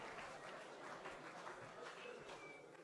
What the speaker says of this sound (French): applaudissez cette initiative.